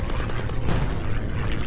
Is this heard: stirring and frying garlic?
no